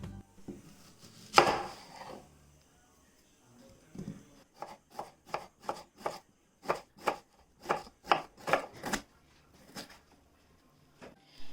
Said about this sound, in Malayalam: ഇത് നമുക്കൊന്ന് സ്ലൈസ് ചെയ്തെടുക്കാം.